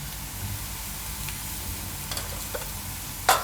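Onion frying in a pan with turmeric, coriander-cumin powder and red chili added for a Gujarati moong dal paratha filling; a steady low sizzle with faint stirring scrapes and a sharper clatter near the end.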